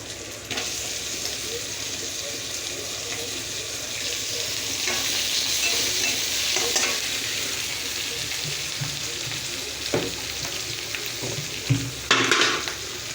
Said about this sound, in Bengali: এবার এর মধ্যে একটা টুকরো করে কেটে রাখা টমেটো দিয়ে দেবো